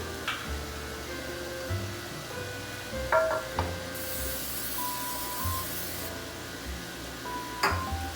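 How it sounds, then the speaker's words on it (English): A short burst of cooking spray hisses steadily for about two seconds onto a 9x13 cake pan, close by in a quiet kitchen, with a few light clinks and taps around it. "let's spray our cake pan"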